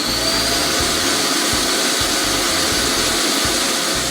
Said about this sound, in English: a loud, unpleasant noise indicates the suction mechanism is emptying the bin into Roomba's internal disposal bag